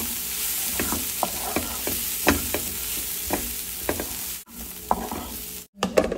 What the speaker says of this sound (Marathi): यात आपण 2 चमचे शेंगदाण्याचं कूट घालूया आणि मिक्स करून घेऊया